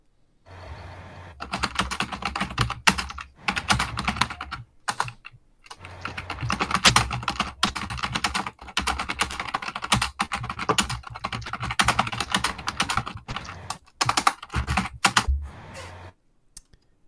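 Loud computer keyboard typing, a long run of fast, clattering keystrokes close by with brief pauses between bursts, alone without speech.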